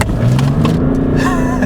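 A tuned turbo diesel Mercedes on drag radials pulls hard from a standstill toward 60 mph, its engine note loud and close with a rising drone and brief voice-like sounds over it.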